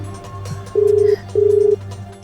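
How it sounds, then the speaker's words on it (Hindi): A telephone is dialed, two long steady electronic tones sounding one after the other, clear and close against a soft low background hum. "बुआ को फोन लगाती हूँ।"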